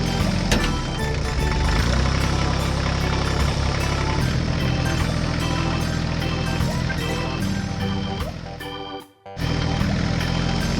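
A green agricultural tractor collecting stones in a field gives a loud, steady engine drone with clattering and rattling. A brief dropout breaks it near the end before it resumes.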